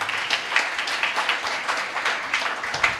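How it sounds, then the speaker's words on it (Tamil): A church congregation claps during a Good Friday service, a dense patter of many hands sustained evenly throughout at moderate loudness, with a few brighter individual claps standing out. "முதல்ல நான் பேசுகிறவங்களுக்கு நல்லா ஒரு கைத்தட்டு."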